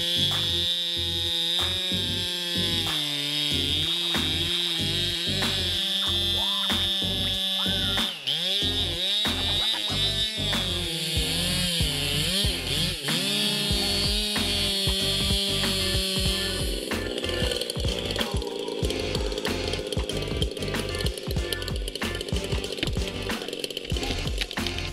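A Stihl MS881 chainsaw cutting big trees, its engine screaming loud and close with rising and falling revs as it bites into wood, then settling into a rough pulsing idle.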